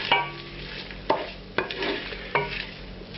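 Chilies hit a pan of very dark browned onions, a soft crackling fry broken by four distinct scrapes or stirs spaced across the moment, with no talk.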